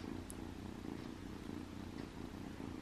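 A house cat purring softly and steadily at close range, a continuous low rhythmic rumble with no talking over it.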